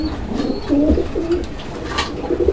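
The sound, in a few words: pigeons cooing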